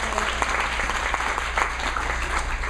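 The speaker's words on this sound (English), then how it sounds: "I need lots of applause" Audience applause at a coaching session, a steady, even wash of many hands clapping, continuous and fairly loud across the moment, with little talk.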